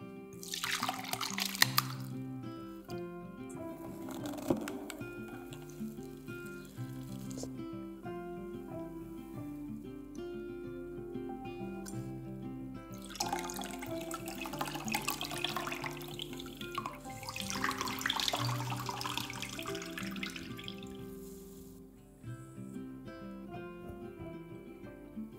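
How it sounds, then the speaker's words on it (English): Liquid from grated potatoes squeezed through a draining bag, a steady close trickle and splash of running water lasting throughout, with wetter surges partway through. "Using a draining bag like this, squeeze out the liquid thoroughly and transfer the potatoes to a bowl."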